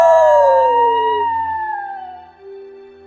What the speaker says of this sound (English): I hear her howl echoed by two wild dogs